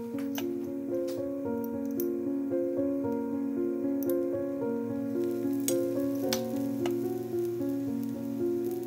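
Rice adai batter, made with spinach and okra, sizzles steadily on a hot pan over medium-low heat, a continuous close frying crackle with no speech, accompanied by a sustained steady tone.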